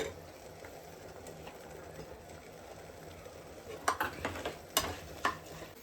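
Roasted chickpeas frying in a pan with ghee, a steady low sizzle broken near the end by several sharp stirring scrapes and clatters, close and moderately loud, with no talking.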